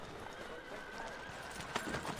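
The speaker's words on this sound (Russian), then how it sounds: "что лошадь бегает за мной" A horse in Assassin's Creed 3 neighs and gallops with clip-clop hoofbeats, heard faintly beneath steady game background noise.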